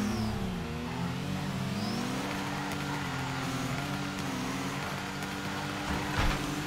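A BMW M4 in the mobile drifting game Torque Drift holds a steady, high engine drone that rises and falls in pitch through a slide, with tire hiss behind it and no talk.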